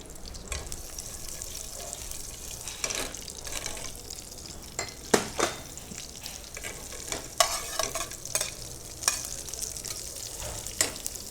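Green chillies fry in hot oil for a home-cooked veg corn pulao, giving a steady close sizzle broken by sharp crackles and spatters and a few stirring scrapes, with no talking.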